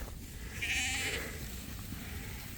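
A single sheep bleats once, at moderate distance, in an open pasture where sheep are grazing alongside cows, followed by quiet outdoor background.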